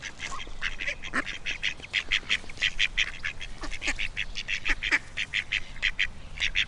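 A duck quacks in rapid bursts, a lively string of close, repeated calls against a quiet outdoor background.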